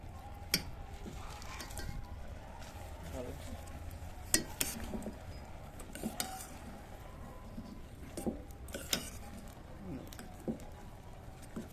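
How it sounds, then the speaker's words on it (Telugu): A spoon stirs melting jaggery into payasam in a pot, making quiet intermittent scrapes and clinks over a soft, low bubbling background, close and fairly faint, with no talking. "ఇలా కలుపుతూ ఉంటే బెల్లం కరిగి ఇంకా పరమాణం రెడీ అయిపోద్ది"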